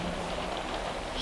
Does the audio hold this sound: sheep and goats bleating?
no